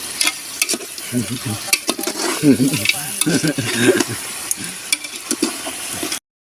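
A dish for a provincial feast stirred in a pan, with loud repeated scraping and clatter over a steady sizzle and a voice heard briefly alongside.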